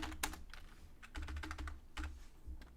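Computer keyboard typing, quick bursts of keystrokes in an irregular rhythm, close and fairly quiet, with no talking.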